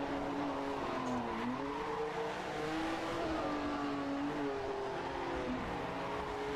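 A 1967 Formula One car with an H16 engine howls through a racing game at Mosport, its tone rising and falling with gear changes and corners, steady and continuous with no talk.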